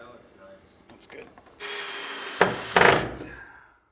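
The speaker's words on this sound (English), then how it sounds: "We just need him to drill a hole through the 2x4s there" A power drill bores a hole through 2x4 wood during a home network build, a short loud whirring burst with a couple of harsher grinding surges, following some faint handling noise and quiet talk.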